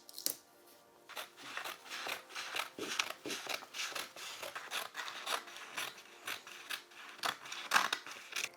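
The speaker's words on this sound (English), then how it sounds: "Then tape all the pages together and cut out all the pattern pieces." Steady snipping and sliding of scissors cutting out taped-together paper sewing pattern pieces, a close, quiet series of crisp cuts with paper rustling between them.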